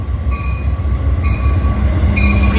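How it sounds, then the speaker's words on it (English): The Amtrak California Zephyr, led by P42 locomotive 146, rolls past close by with a heavy low rumble of wheels and rail, steady tonal ringing and clanks overhead. "this is train number 6 to Chicago. Amtrak California Zephyr. P42 146 leads off of this one."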